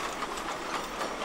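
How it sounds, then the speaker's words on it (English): A heritage narrow-gauge train on the Gulbene-Aluksne railway slowing as it approaches a level crossing, a steady broadband rolling rush of wheels and carriages, close and continuous with faint rhythmic clatter. "Approaching the level crossing, the train slows down"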